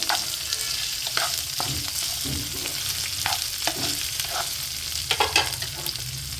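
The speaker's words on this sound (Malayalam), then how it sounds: "നമുക്ക് ആകെ വഴലേണ്ടിയിരുന്നത് ചെറിയ ഉള്ളിയും തേങ്ങാക്കൊത്തുമായിരുന്നു" Shallots and coconut pieces sauté for a prawn roast, a loud continuous sizzle broken by repeated scraping stir strokes, with no talking.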